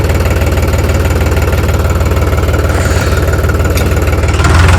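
A tractor's heavy diesel engine is started and idles loudly and close by, with a steady rapid chugging throb that rises slightly near the end.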